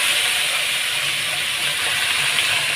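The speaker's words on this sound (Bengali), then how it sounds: "একটু জিরে দিয়ে দিলাম আর এইদিকে আলুগুলো সব দিয়ে দেবো আলুগুলো একটু ভেজে" Potatoes and cumin seeds frying in hot oil, giving a loud, continuous, even sizzling hiss close by that stays steady throughout.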